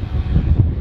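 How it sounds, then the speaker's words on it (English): Strong outdoor wind buffeting the microphone, a loud close low rumble with no talking. "You feel the wind? I can feel the wind."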